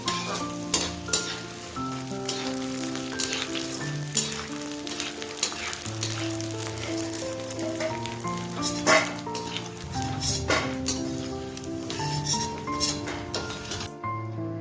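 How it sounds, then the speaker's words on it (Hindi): Small pieces of edible gum fry in hot ghee, giving a continuous close sizzle with frequent clinks and scrapes of a spoon stirring against the pan. "घी गरम हो गया है तो बस थोड़ी सी गोंद डाल देंगे।"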